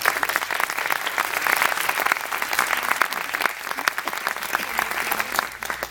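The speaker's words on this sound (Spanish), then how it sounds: "Un aplauso a ellos, por favor." Applause from an audience at a conference and screening in a hall, steady dense clapping that holds for several seconds with a faint voice or two underneath.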